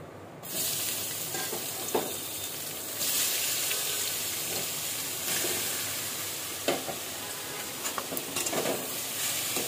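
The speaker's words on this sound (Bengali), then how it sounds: "মাশরুমটা সতে হয়ে গেছে, এখন আমি মাশরুমটাকে তুলে নিয়ে তার মধ্যে ভেজিটেবলগুলো ছেড়ে দেবো।" Vegetables frying in a pan with sautéed mushrooms for vegetable oats, a steady loud sizzle with spoon scrapes and occasional stirring bumps, close up and without talking.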